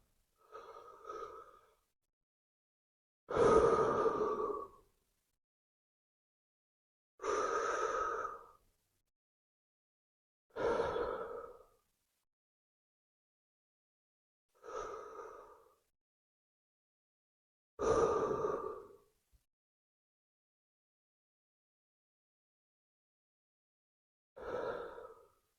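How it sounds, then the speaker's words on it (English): Deep inhalations and exhalations during a breathing exercise, seven slow breaths spaced by long silences, close and clear with no talking. "Okay, deep breath in."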